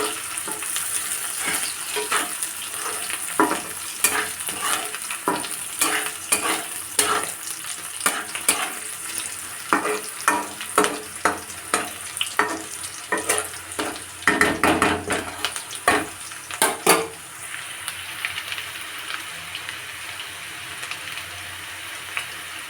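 Onions frying in mustard oil until lightly reddened give a steady sizzle, broken by frequent clicking and scraping strokes of a utensil against the pan, close and moderately loud with no talking.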